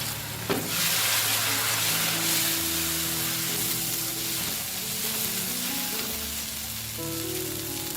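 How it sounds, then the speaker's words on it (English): Chili paste and carrots fry in a pan for fried rice, giving a steady, close sizzle and hiss with occasional stirring scrapes. "We will fry the chili paste until its raw smell disappears."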